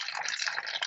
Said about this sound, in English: I hear water pouring.